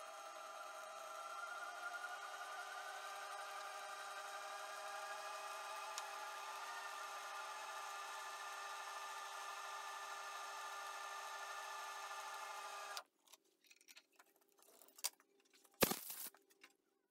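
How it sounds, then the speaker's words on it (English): A knurling tool rolls against a small metal cap turning on a lathe, a steady grinding, scraping drone held for about thirteen seconds before it stops abruptly, followed by a few brief clicks and one sharp knock. "So the cap is going to be knurled, so I'll knurl a section that'll be enough for both caps."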